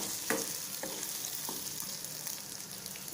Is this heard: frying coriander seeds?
yes